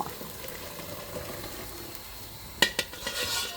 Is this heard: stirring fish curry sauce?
yes